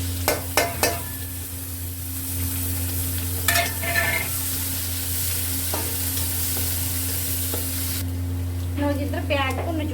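Onions sizzle loudly as they fry in a hot pan, a constant close crackle broken by a few sharp clinks and scrapes of a utensil stirring against the pan.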